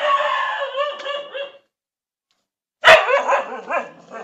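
Dogs bark and yelp in two bursts separated by a silent pause, the second opening with a sharp bark, on an empty street during a curfew, with a whining, howl-like tone throughout.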